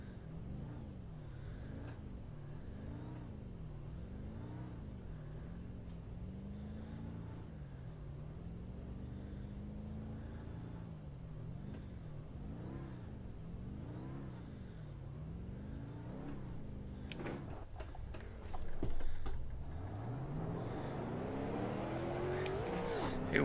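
Street stock cars at Charlotte in iRacing rumble in a pack behind the pace car, their engines droning and rising and falling in a slow wavering rhythm, then swelling into a louder rev near the end.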